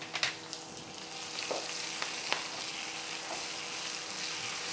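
Green chillies and ginger-garlic paste sizzle and fry steadily in a pan, a continuous close crackling hiss with a few sharper pops and stirring clicks early on.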